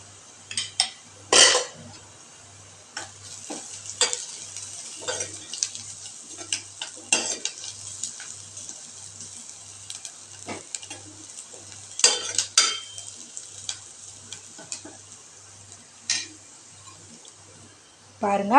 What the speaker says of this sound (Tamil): வெங்காயம் வதங்கட்டுங்க